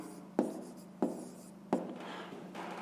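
A math solution being written out by hand, three sharp pen strokes tapping onto paper at an even pace with quiet scratching between them, close and fairly faint.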